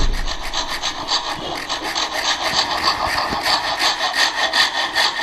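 A hand saw cuts down the pitch of a dovetail joint in timber with steady, rhythmic rasping back-and-forth strokes, close and continuous, no voices over it.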